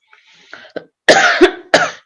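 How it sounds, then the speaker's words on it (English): A few quiet throat sounds lead into two loud, close coughs, the second following shortly after the first. "Excuse me for coughing."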